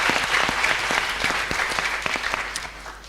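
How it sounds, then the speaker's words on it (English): An audience at a spiritual talk gives a round of applause, with steady, moderately loud clapping from a seated crowd running the whole way through and trailing off slightly at the end. "I think we should give Grace a round of applause for being so brave, coming on the journey."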